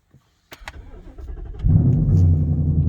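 A Ford Mustang with an MBRP exhaust and deleted mufflers cranks briefly, then fires and settles into a loud, rough, rumbling idle close by.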